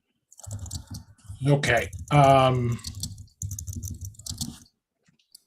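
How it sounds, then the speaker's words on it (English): Keyboard keys click in a quick, uneven run beneath a person talking, the typing staying in the background. "keyboard is really loud."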